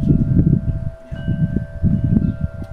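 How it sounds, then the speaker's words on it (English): Wind gusts buffet hard and close, producing a loud low rumble that rises and falls in bursts. "Getting a little bit windy."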